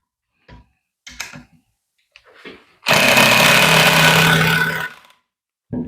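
A Bosch Professional power tool drives a 5x80 screw in one loud, continuous burst of about two seconds. A few soft handling clicks and knocks come before it.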